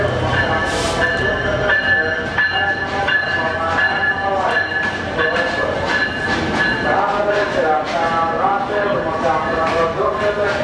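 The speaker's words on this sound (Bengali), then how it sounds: "আপনারা দেখতে পাচ্ছেন ট্রেন ঢুকছে" A passenger train bound from Dhaka to Rajshahi pulls into a station, filling the air with a loud, continuous rumble and the rhythmic clatter of its wagons, while voices carry faintly underneath.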